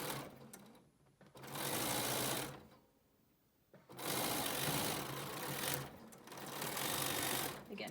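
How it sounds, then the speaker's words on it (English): A sewing machine stitches a fabric mask in three bursts of steady mechanical whirring, loud and close, separated by short quiet pauses. "and sew that down"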